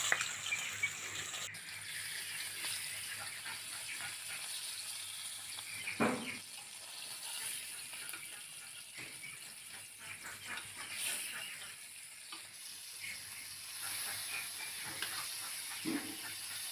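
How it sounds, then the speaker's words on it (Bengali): A fish head fries in mustard oil in a wok during village-style cooking, giving a steady close sizzling hiss with occasional soft clatters and no talking. "এবার আমি প্রথমে মাছের মাথাটাকে ভেজে নেব।"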